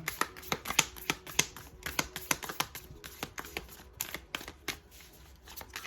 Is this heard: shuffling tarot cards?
yes